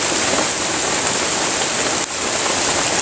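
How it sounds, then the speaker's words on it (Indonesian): Steady, dense rain falls near a dam, a constant close hiss of drops hitting surfaces with no pauses and no voices. "kalian lihat nggak detesan hujannya ton?"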